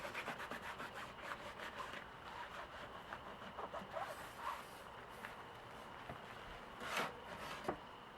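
Fabric is rubbed by hand as acrylic paint dye is worked into a T-shirt, giving a faint, steady scrubbing and rustling texture with small bumps throughout and no speech.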